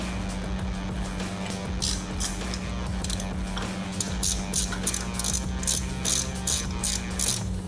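Ratcheting on the shift linkage screws of a Harley-Davidson Iron 883 during a forward controls install, a series of quick metallic clicks that gets denser toward the end over a steady low hum.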